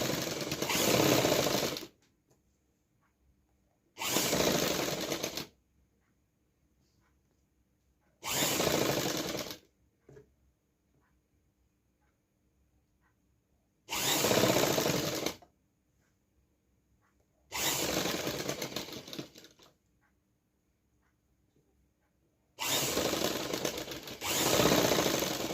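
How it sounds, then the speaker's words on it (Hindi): An electric sewing machine runs loose tacking stitches across a kurti suit in six loud, even bursts of rapid whirring, each lasting a couple of seconds and separated by quiet gaps. "तो देखिए इस तरीके से मैं ऊपर से सिलाई लगा दूंगी इसके"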